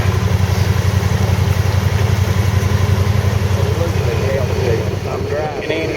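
A vehicle engine churns steadily at close range while driving through flood water along a residential street, the low drone holding nearly constant before easing slightly at the end.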